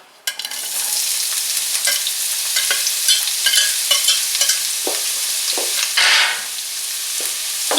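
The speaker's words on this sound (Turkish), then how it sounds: "Soğanlarım hafif böyle kavrulurken" Onions fry in sunflower oil in a pan with a loud, steady, close sizzle, broken by scraping stirs and a few sharper crackles, with no talk.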